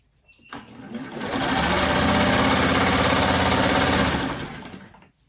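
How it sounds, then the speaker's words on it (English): A sewing machine stitching quilt fabric scraps runs in one steady, fast mechanical whir for about four seconds, spinning up and winding down, close and loud, with no talk. "I'm going to sew a piece to that."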